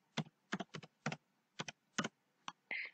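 Typing on a computer keyboard, about nine quick, crisp keystrokes in irregular clusters, close and clear against near silence, ending on a slightly longer key press.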